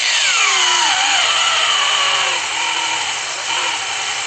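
A DRIVAK AG001 cordless angle grinder screams at high speed under load, its whine steady and loud, with pitch sliding down as the grinding bites into the work.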